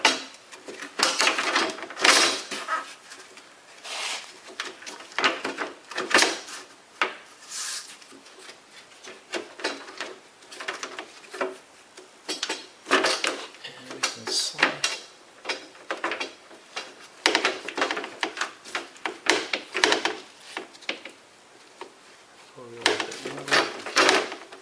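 A plastic sunroof tray on a BMW E36 being worked into place, with a series of irregular clicks, knocks and scraping rattles coming in bursts between pauses, and a person talking at times.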